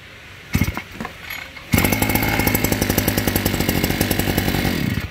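A 2020 Kawasaki TJ53E brush cutter engine pulls over with a couple of sputters, then fires and runs loud and close with a rapid, pulsing two-stroke idle that gradually smooths out.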